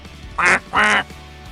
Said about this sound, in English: All we need is some ducks for some ambience.